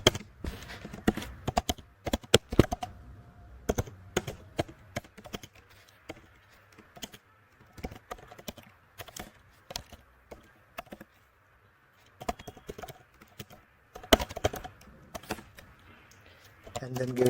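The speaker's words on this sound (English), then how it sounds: "I'll just type out everything quickly" Fast, steady typing of code on a computer keyboard, dense bursts of close clicky keystrokes with brief pauses, running continuously at moderate volume.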